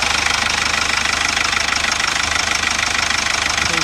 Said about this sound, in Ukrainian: Мотор тут працює класно.